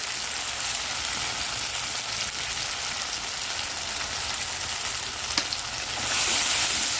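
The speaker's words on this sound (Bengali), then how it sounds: "এটা হালকা একটু জল দিয়ে কষিয়ে নেব" Potatoes with turmeric and salt sautéing in a pan with a splash of water, a steady, even sizzle and hiss throughout, briefly brightening and intensifying near the end.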